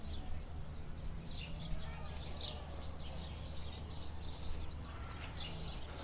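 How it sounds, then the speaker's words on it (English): Several birds chirp in quick, repeated bursts over a low background hum, faint and somewhat distant. "it's just a bunch of loud-ass birds"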